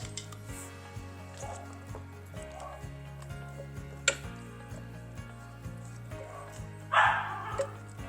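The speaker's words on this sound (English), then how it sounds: "You can hear my sweet little puppy." A puppy gives a few sharp yips over soft background music, with one brief clink nearby.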